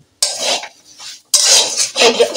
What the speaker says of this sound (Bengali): এখন 1-2 মিনিট নাড়তে থাকবো